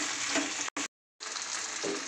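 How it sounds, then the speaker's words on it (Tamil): Salted vegetable pulao is stirred in a hot pan, giving a soft sizzling and frying hiss with spoon scrapes, cut by a short pause before the sizzle resumes. "சேர்த்துட்டு நல்லா கிளறி விட்டுக்கோங்க."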